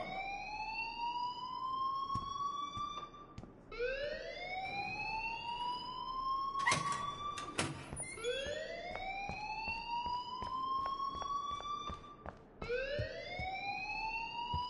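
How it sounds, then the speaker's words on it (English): Fire alarm in the Life is Strange video game, a repeating rising electronic whoop sounding in steady cycles, loud and continuous, with a few sharp clatters partway through. "please turn off that alarm since that's your job"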